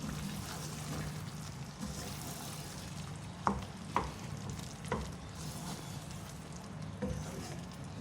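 Spoon stirring garam masala powder and kasuri methi into spiced brain (maghaz) masala frying in a pan, a steady sizzle under soft scraping with a few sharp clinks of the spoon against the pan.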